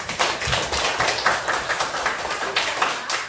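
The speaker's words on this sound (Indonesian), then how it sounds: "Kasih tepuk tangan untuk Zahra." Classroom applause for a student, a short burst of scattered clapping from a group of students nearby, steady and loose in rhythm.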